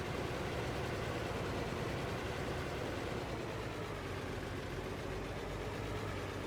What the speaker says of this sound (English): Hopefully the tractor can make it up here.